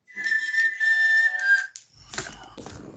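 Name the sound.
someone whistling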